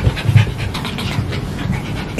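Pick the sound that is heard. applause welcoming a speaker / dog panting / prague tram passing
dog panting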